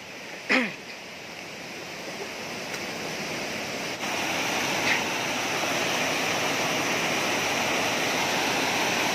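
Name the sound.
waterfall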